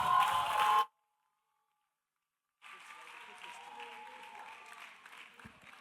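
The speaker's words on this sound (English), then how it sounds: "Is that how you are clapping?" An audience applauds after a speech at a creative event, a short burst of clapping that cuts off, then a longer, steadier round of applause from a sizeable crowd in a hall.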